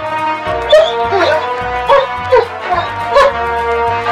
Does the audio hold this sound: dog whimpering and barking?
yes